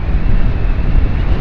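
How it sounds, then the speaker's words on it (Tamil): Strong gusts blow straight into the microphone outdoors at the Yelagiri hill area, producing a loud, continuous low rumble and buffeting with no other clear sound. "காற்று வேறு இப்படி அடிக்குதுங்க, ஒரே கடுப்பாகுது."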